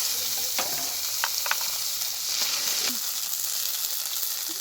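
Whole spices, dried chilies, cumin and ginger paste sizzle in hot oil for a vegetarian eggplant dish, a dense continuous hiss broken by several short crackling pops and the scrape of stirring, close and loud.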